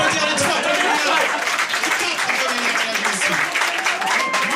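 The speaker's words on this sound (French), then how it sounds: "On peut applaudir les trois premiers." A comedy club audience applauds improvisers with dense, loud clapping that continues without a break, mixed with crowd noise and voices talking over it.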